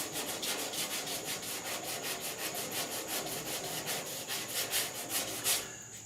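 A sanding block scrapes back and forth over primer-surfacer on the steel dash of a 1966 Ford F100 in steady, rapid rubbing strokes, close and even, with no talking.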